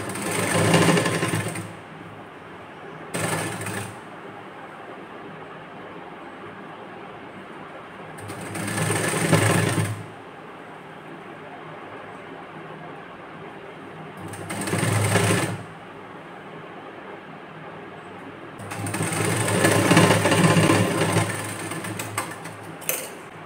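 A sewing machine stitches piping onto a blouse in several short bursts of rapid whirring, loud and close, with quiet pauses between the runs.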